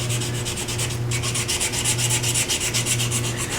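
A wooden pen blank is sanded by hand with 120-grit sandpaper along the grain on a lathe. The sanding makes loud, close, rhythmic rubbing strokes in quick regular pulses over a steady low motor hum, with no speech.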